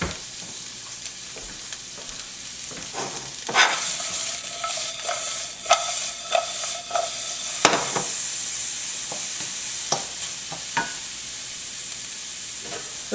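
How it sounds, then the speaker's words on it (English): Sliced onions stir-fry in sesame oil with a steady close sizzle, broken by repeated scraping and knocking of a utensil stirring in the pan, with a few sharper clacks along the way. "we're going to render some of the flavor of the onions into the sesame oil"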